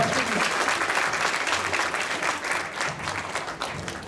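A theatre audience of about 250 people applauds as a woman from the crowd comes up onto a stage, with dense clapping that holds strong and then eases slightly.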